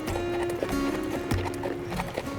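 Horse hooves clip-clop on the floor of a riding school stable in Finland, a steady sequence of close, distinct steps with a few sharper knocks, over a faint background hum.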